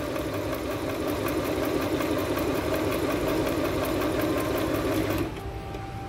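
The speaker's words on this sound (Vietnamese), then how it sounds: "Đấy, bây giờ mình may sang đường zig zag này. Mình quay sang luôn. Đấy, con này chạy nghe rất là êm." A Jaguar JI 070 sewing machine stitching a zigzag seam, running with a smooth, steady mechanical whir and fine rapid ticking close by, before halting and leaving a quieter hum.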